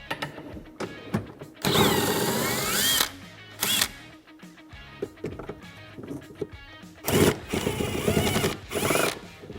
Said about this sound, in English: we're going to remove this bolt right here, as well as the one directly back if you follow the grab bar